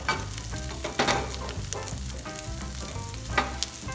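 A lobster burger sizzles loudly in butter in a pan after being flipped, a continuous close crackling fry with occasional sharper pops and spatula scrapes.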